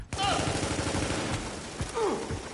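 Sustained gunfire in The Division video game, dense overlapping shots forming a steady loud fusillade with sharp transients throughout, plus a couple of brief tonal sweeps.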